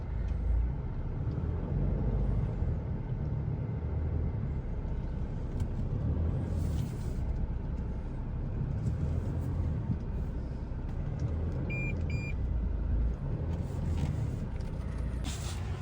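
A Toyota Hilux grinds along in low gear through loose beach sand, its engine a continuous heavy low rumble that holds steady throughout, with faint higher clatter near the end.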